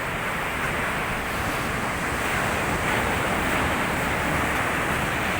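Ocean surf washes in on a beach in a steady broadband roar, with wind buffeting the microphone and no talking.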